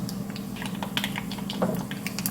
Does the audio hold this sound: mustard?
yes